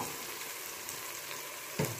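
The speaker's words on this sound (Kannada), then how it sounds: "ಇದನ್ನು ಹಾಕ್ಕೊಳ್ತಾ ಇದ್ದೀನಿ ತರಕಾರಿ." Carrots, beans and other vegetables going into hot oil in a pan for vegetable pulao, a soft steady sizzle throughout with a louder burst near the end as more is added.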